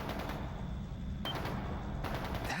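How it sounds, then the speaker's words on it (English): Rapid gunfire in the video game Trails into Reverie, a steady dense crackle of shots running throughout without pause, distant and moderately loud with no talking. "It's gunfire."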